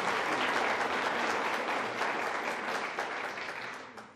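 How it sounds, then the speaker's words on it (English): An audience claps for a group of candidates in a full, loud round of applause that stays dense and even, then tapers slightly toward the end, with no talking over it. "So another round of applause for these great guys and gals for doing this."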